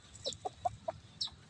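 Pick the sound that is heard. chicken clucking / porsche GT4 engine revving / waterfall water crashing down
chicken clucking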